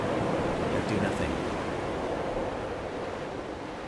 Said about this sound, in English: just look at those gently rolling waves, the way they softly crash against the